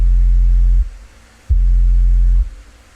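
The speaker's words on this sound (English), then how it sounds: "If you don't know what a sub is, I'll play an example of it right here." A deep sub bass tone plays as two long, loud sustained notes, each nearly a second long with a short gap between them, smooth and steady with no talking.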